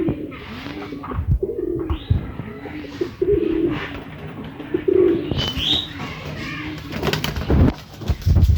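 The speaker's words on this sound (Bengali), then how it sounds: "এই আমাদের মায়ের কবুতর ঘর এটা শুধু কবুতরের জন্য" Pigeons in a pigeon house give repeated soft, throaty coos in a steady rhythm, close by, along with some rustling and brief chirps.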